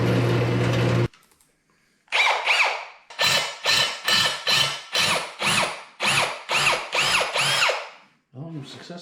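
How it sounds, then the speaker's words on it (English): A power drill drills out a broken part in a shed, its motor whirring in about a dozen short, even bursts after an opening stretch of mechanical noise and a pause. "I'm successfully drilling it out."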